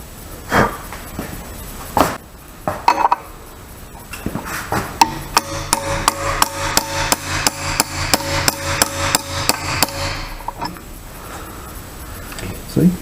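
A hammer knocks a tight-fitting pin into a tube while a rear end is repaired in a garage, about a dozen sharp metallic blows landing in a quick, regular rhythm, with voices around them.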